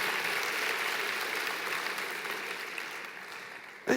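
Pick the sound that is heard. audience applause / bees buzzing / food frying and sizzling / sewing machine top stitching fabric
audience applause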